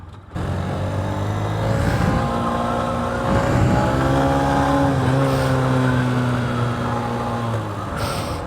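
A 2023 Honda CB125F motorcycle fitted with a 28mm throttle body runs steadily while being ridden, its engine note droning and shifting pitch as the throttle opens, close and continuous with a brief rise near the end.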